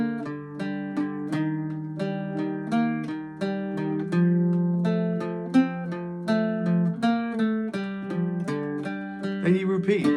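An Irish bouzouki plays lines of the Glasgow Reel, bright plucked notes in a quick, even reel rhythm over ringing drone strings, close and alone for about ten seconds.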